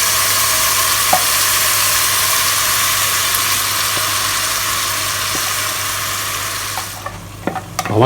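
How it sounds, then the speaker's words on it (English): Rempah spice paste frying in oil in a pan, giving a loud, steady sizzle with brief stirring clicks that fade near the end. "I want to fry my rempah or the spice paste."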